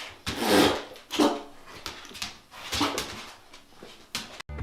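A dog whimpers and gives several short, loud barks close by, in uneven bursts with brief pauses between them.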